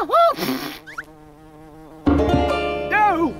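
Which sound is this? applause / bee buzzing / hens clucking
bee buzzing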